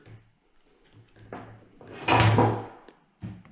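A steering wheel clip being pressed into place on a 2018 Mustang's new carbon fiber wheel gives a single short click-thump after soft handling noises, quiet and close.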